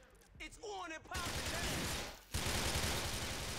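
Rapid bursts of gunfire in GTA IV crackle loudly in dense volleys, with a brief voice and electronic warbling at the start.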